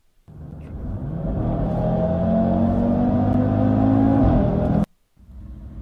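An Audi RS3 drives off with a loud, steady engine note that rises in pitch as it accelerates for about four seconds, then cuts off abruptly before the engine hum returns at a lower idle.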